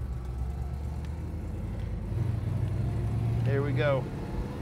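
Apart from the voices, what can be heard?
1969 Plymouth Road Runner engine running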